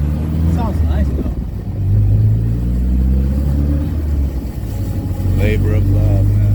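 Open-top 1970 Datsun Roadster SPL311 on a test drive, its engine a loud, steady low rumble that swells as it revs, with brief voices over it.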